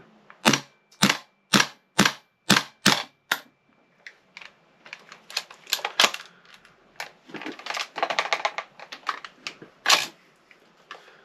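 A cheap gas blowback airsoft rifle firing, starting with about seven evenly spaced sharp cracks, then a looser, busier stretch of quick clicks and pops from the action, close and loud with no talk.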